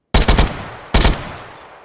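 Two loud bursts of rapid gunfire from a sniper battle video game, each a fast volley of shots that rings out and decays into a fading tail, with a short pause between them and no talking.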